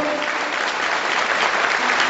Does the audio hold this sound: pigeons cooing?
no